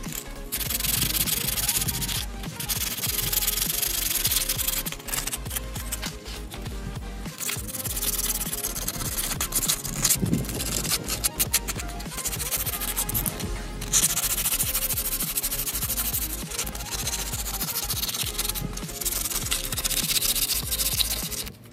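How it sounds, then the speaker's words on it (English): Brake calipers on a C5 Corvette being sanded by hand with 60 grit sandpaper, making a loud continuous rough scraping and rubbing with steady back-and-forth strokes, close up and without talking. "I sanded the fronts down with 60 grit sandpaper"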